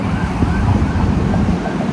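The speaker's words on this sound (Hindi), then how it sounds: "एम्बुलेंस आ रही है।" An approaching ambulance siren wails steadily beneath heavy wind noise buffeting the microphone, loud and continuous.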